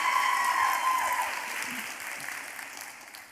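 Audience applause at an arangetram dance graduation ceremony: a steady, dense wash of many hands clapping together, moderately distant, easing off slightly toward the end.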